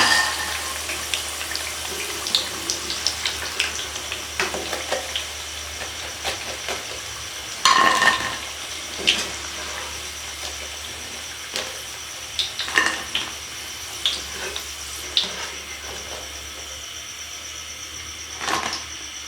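Potato pakora chips crackle and sizzle in hot oil, a continuous bubbling fry punctuated by frequent sharp clinks and scrapes of a slotted spoon lifting pieces out, close and fairly loud with no talking.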